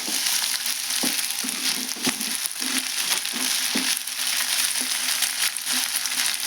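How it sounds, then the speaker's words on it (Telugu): Bitter gourd curry paste fries in a pan with a steady broadband sizzle, broken by repeated short scrapes and knocks of stirring at an irregular rhythm, close and fairly loud with no talking. "కొద్దిగా పచ్చివాసన పోయేంత వరకు ఫ్రై చేస్తే సరిపోతుంది"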